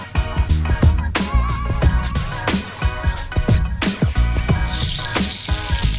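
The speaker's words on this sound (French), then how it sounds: "Mes abattis que je vais faire revenir." Chicken giblets browning in a saucepan, a busy sizzle and crackle under music with a hiss that grows louder toward the end.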